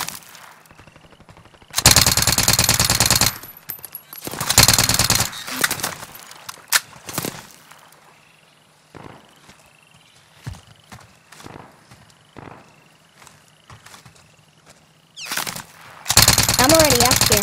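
Gunfire in Call of Duty: Modern Warfare, with loud sustained automatic bursts near the start and end and sharp scattered single shots between, over a low hum and faint voices.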